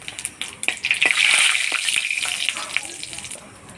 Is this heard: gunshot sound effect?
no